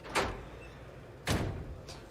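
Sci-fi sliding door opening in a spaceship corridor from The Expanse, a sharp airy whoosh followed by a second louder swish about a second later and a faint third hiss, fairly close with no talk.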